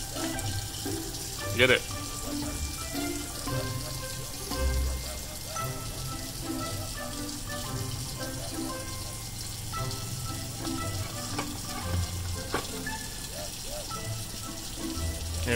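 A water faucet runs steadily beside a baby toucan, a soft continuous splashing under light chatter, with a few sharper taps and knocks along the way.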